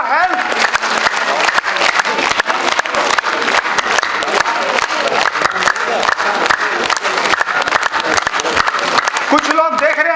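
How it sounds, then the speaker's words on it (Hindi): An audience at a motivational training session claps together, producing a dense, continuous rattle of hand claps throughout, with a voice speaking over it. "कुछ लोग देख रहे हैं कि कैसे ताली बजती है।"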